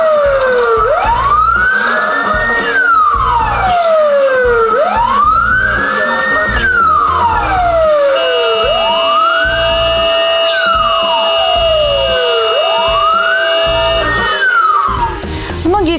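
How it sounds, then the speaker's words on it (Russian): Ambulance siren on a city street at a pedestrian crossing, a loud close wail rising and falling in four long sweeping cycles of about four seconds each, with a steady tone joining partway and traffic noise underneath. "водитель скорой включил сирену"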